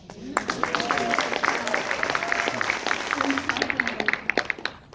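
An audience applauds steadily at a New York premiere discussion for a television series, a dense patter of many hands clapping throughout, with a voice faintly audible beneath.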